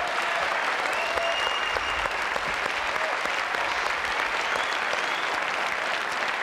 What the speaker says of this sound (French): Applaudissements pour Paulette.